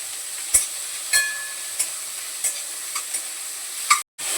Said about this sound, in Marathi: टमाटा यात टाकून देते खूप मला असं लालसर नाही करायचंय फक्त जरासं परतून घ्यायचं